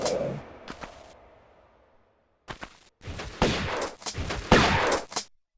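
Shotgun blasts from the Tomb Raider video game, a single shot fading out followed by a short burst of several loud, close reports in quick succession.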